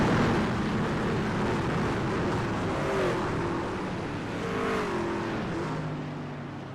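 Several trucks in a Relentless Racing League truck race at Daytona roar steadily in a dense, continuous engine drone, with rising revs swelling midway as the field builds speed toward a restart; no talk.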